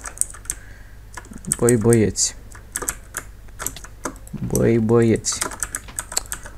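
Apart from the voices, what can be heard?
computer keyboard typing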